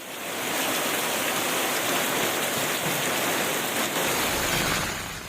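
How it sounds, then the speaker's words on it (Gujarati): Heavy downpour in Tamil Nadu, a dense, steady wash of rain hissing and pattering on surfaces, swelling in and fading out evenly with no voices. "ધોધમાર વરસાદ વરસ્યો"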